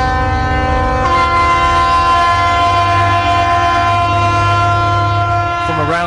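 Ship's whistle sounding across the Southampton docks in a Titanic centenary tribute, a loud, sustained, deep chord-like blast that holds for several seconds before fading.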